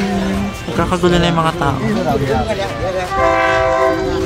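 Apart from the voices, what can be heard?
train arriving at station with horn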